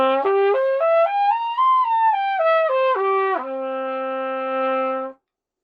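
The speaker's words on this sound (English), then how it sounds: "All brass instruments are able to play different notes using what's called the overtone series" A trumpet climbs and descends through the overtone series, each note stepping cleanly up then back down before settling on a long sustained low tone, played solo and close.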